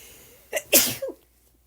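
A single close sneeze with a short inhaled build-up and a sharp burst, followed by a small trailing sound, then quiet.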